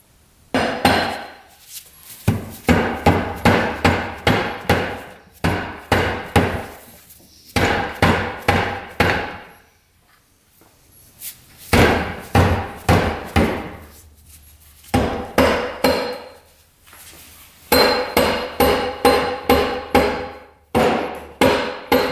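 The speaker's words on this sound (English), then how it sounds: "Do is just knock right here with the hammer, knock right here, and it should come loose" A hammer knocking on a bolted UTV part to loosen it, loud sharp metallic blows in rapid bursts of several strikes separated by short pauses, repeated over and over.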